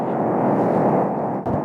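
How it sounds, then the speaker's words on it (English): Steady brown noise played as a sleep sound: a dense, low-weighted rumbling hiss that stays even and continuous, with a short dip just before the end. "here we have brown noise, which basically sounds like this."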